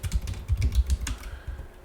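Quick burst of typing on a computer keyboard while entering sample data into software, a close, moderately quiet patter of irregular key clicks with no speech.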